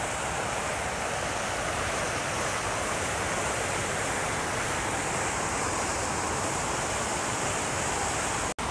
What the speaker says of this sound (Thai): หนุมานพ่นน้ำนะคะ